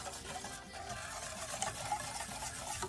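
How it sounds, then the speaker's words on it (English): Sugar being stirred into water for hummingbird nectar, a soft, continuous scraping and swishing close by, quiet and steady with faint clinks. "Mix it up until every last granule is completely dissolved."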